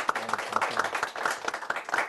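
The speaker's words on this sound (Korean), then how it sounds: "수고하신 두 분 MC들한테 박수 부탁드리겠습니다" A small gathering at a business networking event claps for two emcees, a fairly close, uneven patter of hands lasting about two seconds without talk.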